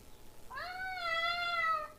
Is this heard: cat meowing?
yes